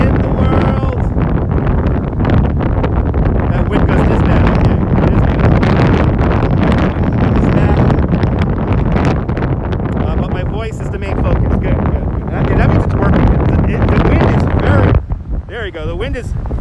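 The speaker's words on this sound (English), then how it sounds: "The wind is very strong right now." Strong wind batters an outdoor microphone during a live stream at a Brooklyn waterfront near a suspension bridge, producing loud, continuous rumbling buffeting throughout while someone talks over it.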